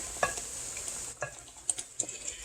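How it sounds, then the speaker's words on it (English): Bisquick batter whisked in a bowl, quiet scraping strokes with sharp metal taps against the rim, faint and close with a soft hiss underneath. "We're going to whisk this all together"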